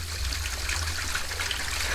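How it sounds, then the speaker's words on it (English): A toilet flushing, with water rushing steadily through a drainage pipe running overhead, a continuous close trickling wash with a low rumble underneath, no voices. "That's the toilet flushing."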